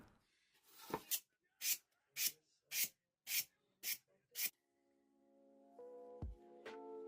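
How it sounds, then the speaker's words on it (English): A hairbrush scrapes lines into a foam block to give a concrete-like texture: seven short, sharp rasping strokes in an even rhythm, close and distinct, followed by a quieter stretch with some faint tonal sounds. "I've used a hairbrush to gently scrape lines in the same direction to get that liney, concretey texture"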